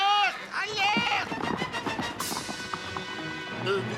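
In a Lucky Luke video game, horses gallop in quick clip-clop hoofbeats, and a horse whinnies, under loud speech and music over about four seconds.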